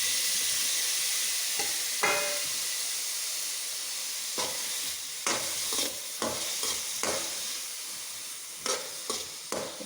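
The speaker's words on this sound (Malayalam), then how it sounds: "പനീർ കഴുകിയെടുത്ത് ചെറുതായിട്ടൊന്ന് ഫ്രൈ ചെയ്തെടുക്കണം" Paneer frying lightly in coconut oil gives a steady, close sizzle and hiss, with several sharp spatula scrapes and stirs against the pan. No one speaks.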